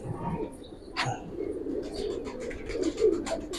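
Giribaz pigeons coo softly in a loft, low murmuring calls rising near the end over a steady background hum, with faint chirps scattered through.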